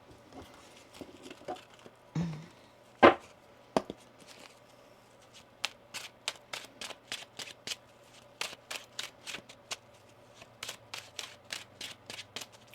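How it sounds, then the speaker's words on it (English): Tarot cards being shuffled in quick bursts of crisp riffling flaps, a few slower taps early on, then a rapid run of repeated shuffles, close and clear. "One more shuffle."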